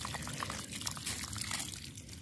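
Clear water running steadily into a drum on a small rural plot, a continuous pouring, trickling wash that stays fairly loud and unbroken throughout with no talking.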